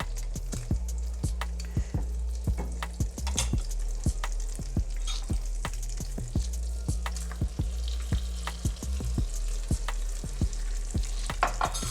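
Green chilaquiles verdes cheese sauce with melted cheese bubbles and sizzles steadily in a pan, close up, with repeated sharp scraping clicks from stirring throughout and no talking.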